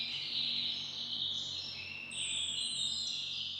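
A dawn chorus of birdsong: bright, high chirping and warbling phrases overlap continuously at moderate level, sliding in pitch, over a faint low background hum with no talking.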